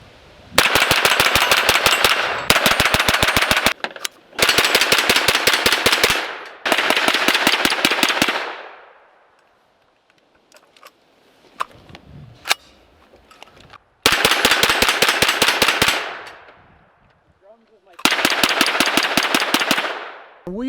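A Crusader 9 pistol from Crusader Arms fired outdoors using Glock and Magpul magazines: five rapid strings of loud, sharp shots with a gap in the middle holding faint clicks and handling noise.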